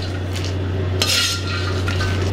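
Roasted peanuts and dried red chillies tipped from a pan into a bowl: a close spoon scrape and clink, then a bright rattling pour of nuts around the midpoint, over a steady low electrical hum.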